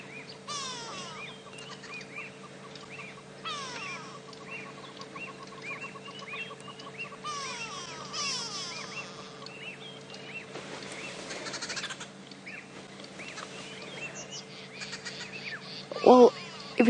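Agitated birds, drongos among them, call at dawn during a live safari drive: a busy mix of chattering, whistling and scolding cries over a steady low engine hum, fairly distant, with a louder close thump near the end.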